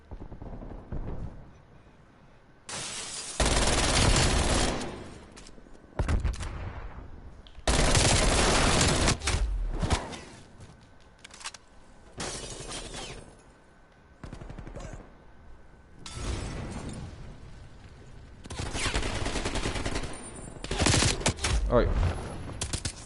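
MAC-10 submachine gun in Call of Duty Black Ops Cold War firing in several rapid full-auto bursts separated by short pauses, loud and close, with brief talk between bursts.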